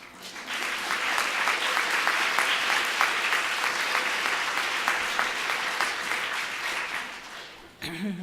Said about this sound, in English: Please applaud for yourselves.